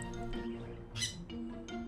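A bright orange pet bird found on a Brooklyn apartment roof lets out a short harsh squawk amid scratchy chirps and rustling, close and fairly quiet.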